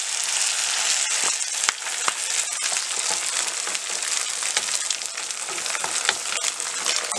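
Beaten egg and golden-brown onions fry and sizzle steadily in a pan while being stirred, with frequent scraping and tapping from the utensil.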